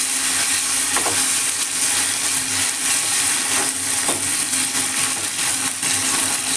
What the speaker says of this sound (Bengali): এই টমেটোগুলো আমি এর মধ্যে দিয়ে দেব, দিয়ে হালকা নেড়ে চেড়ে ভেজে নেব।